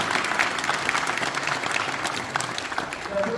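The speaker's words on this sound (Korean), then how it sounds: "박수로 축하해주십니다" Applause from a church presbytery assembly congratulating newly elected officers, a steady patter of clapping hands filling the room, moderately loud and continuous.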